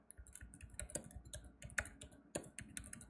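Typing on a computer keyboard, quick uneven key clicks and a few louder taps, close up and quiet, with no voice.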